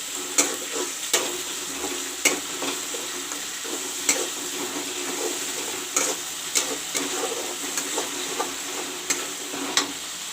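Browned onion with ginger garlic and green chili paste frying in a pan, a loud steady sizzle punctuated by regular spatula taps and scrapes, with no voices.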